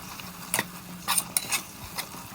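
Mint and coriander are stirred and sautéed in a pan, a spoon scraping and clinking against the metal in a few separate strokes over a faint background sizzle.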